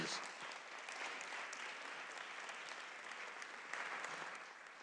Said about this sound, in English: Let's give our staff a round of applause, please.